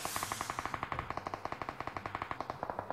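Rapid automatic gunfire in the shooter game PUBG Mobile rattles off in a steady, evenly spaced burst of about twenty shots, moderately loud and continuous with no talking.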